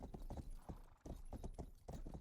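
Horse hooves clip-clopping in the western game Rustler, a string of close, loud hoofbeats in an uneven trotting rhythm with a short pause midway.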